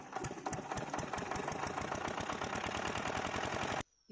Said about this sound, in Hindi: ये फील्ड मार्शल का 8 HP में इंजन है